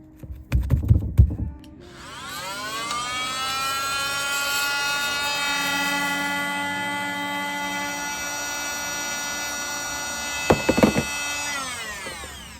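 Sanding a metal bracket with P120 sandpaper on a power sander: a motor whine spins up, holds steady for several seconds and winds down. Short scratchy rasps come before and after, close and fairly loud.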